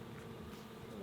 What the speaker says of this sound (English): Be careful of the bees.